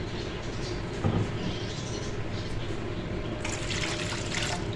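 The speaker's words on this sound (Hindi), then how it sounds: "इसी से हम नाप के इसमें डाल देंगे पानी" Water poured from a measuring cup into tamarind pulp for pani puri, a steady broadband splashing and trickling that runs continuously up close, with a brief heavier splash early on and a brighter pour near the end.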